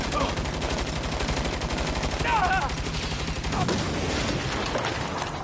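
Rapid automatic gunfire fills the Saints Row video game scene, a dense close rattle of machine-gun bursts that runs throughout, with faint voices under it.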